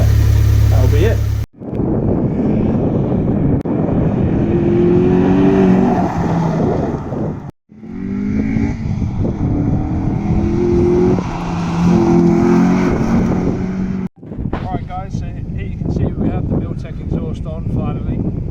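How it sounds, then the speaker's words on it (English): A car engine with a newly fitted exhaust revs loudly in three bursts separated by brief pauses, a deep throaty exhaust roar rising and falling with each rev. "what we're going to do is just do a couple of revs"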